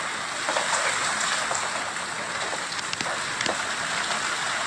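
Heavy rain roars steadily alongside the flooded Pooyamkutty river in Kothamangalam, a dense, unbroken wash of water noise with occasional louder drops and no voices.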